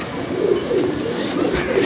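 Pigeons kept by a fancier coo softly and steadily, a low warbling murmur repeating over a constant background hum.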